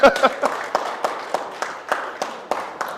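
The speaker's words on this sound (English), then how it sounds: "applause." Applause for a speaker from a small audience, a short run of separate claps in a loose rhythm, close and moderately loud, fading slightly toward the end.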